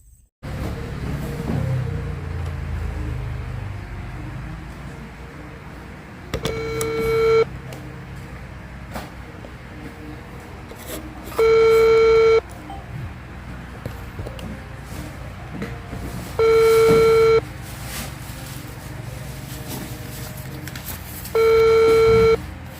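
A telephone call rings out unanswered: a ringback tone repeats four times with long gaps between bursts, steady and electronic, over a low background rumble with some faint movement noise.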